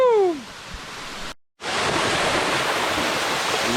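Waterfall Los Juanes in Ecuador gives a loud, steady broadband rush of falling water that fills the clip after a brief whoop-like voice and a short silent break.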